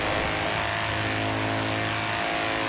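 Nissan Skyline R34 in a racing video game pulling away, a steady engine drone with a broad roar that holds level and slightly recedes, no voices.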